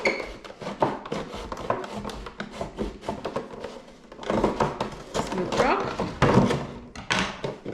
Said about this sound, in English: So I am going to use a knife to roughly